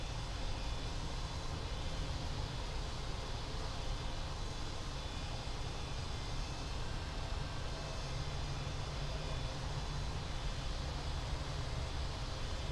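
Steady airliner jet engine drone while taxiing in the Infinite Flight simulator, a constant broadband roar with heavy low rumble holding at an even level throughout, no talk over it.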